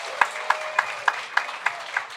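A comedy show audience claps in a brisk, even rhythm, with sharp claps landing about three times per second over a low murmur of room noise.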